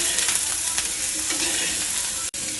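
Cauliflower masala is stirred in a hot pan, making a dense, steady sizzle and scraping that cuts off briefly near the end.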